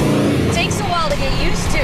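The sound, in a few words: 1972 De Tomaso Pantera engine shifting into fourth gear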